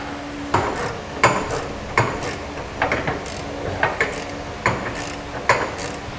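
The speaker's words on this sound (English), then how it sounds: "And then we'll tighten down the nut." A ratchet tightens a flange nut onto a carriage bolt to secure the handle of a B and W underbed gooseneck trailer hitch on a 2017 GMC Sierra. It gives short, rhythmic clicking bursts at close range, repeated steadily, with no talk.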